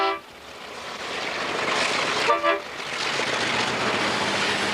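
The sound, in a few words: Alco RS3 diesel locomotive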